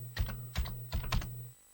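Quick bursts of keystrokes on a Commodore 64 keyboard, about four clustered clacks over a steady low electrical hum, close and clear, with no one talking.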